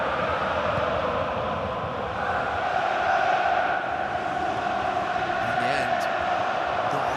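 A large football crowd at the Arsenal vs Manchester City EFL Cup final roars in a steady, dense wash of massed voices, loud and continuous throughout, swelling slightly midway.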